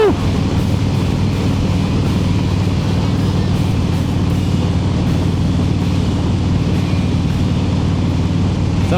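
Steady, loud wind roar surrounds a rider cruising on a Harley motorcycle, mixed with a low engine drone and road rumble that hold constant throughout.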